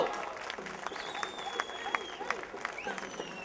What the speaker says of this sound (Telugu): చప్పట్లతో